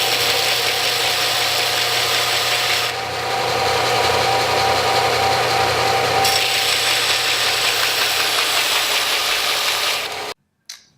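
A belt sander with a new belt grinds steel intercooler piping flat, running as a loud, steady high-pitched whine with abrasive rasp for about ten seconds before stopping abruptly.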